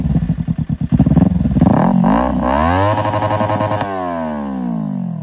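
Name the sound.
Kawasaki Ninja 300 motorcycle engine revving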